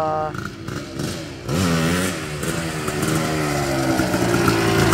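Suzuki LT250R ATV engine revving hard on the throttle, a loud buzzing two-stroke whine climbing in pitch after a brief idle, with people talking over it.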